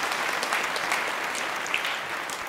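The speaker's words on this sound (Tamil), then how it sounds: "ருத்ரனை உங்கள் கைத்தட்டலோடு அழைக்கிறேன்" An audience at a Vijayadashami festival speech event claps to welcome a young fifth-grade speaker, a dense, steady burst of applause filling the whole moment with no talking.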